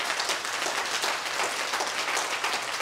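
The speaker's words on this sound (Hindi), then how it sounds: "एक बार तालियों से बता सकते हैं?" Audience applause at a Teachers Day 2023 event in Lucknow, a dense, continuous clapping from a crowd, fairly faint and distant, with no voices over it.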